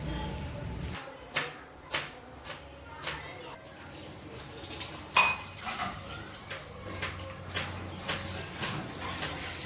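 A cooking pan knocks and scrapes against a stovetop in a home kitchen with sharp, scattered metallic clanks, close and fairly quiet, and a voice talks faintly between them.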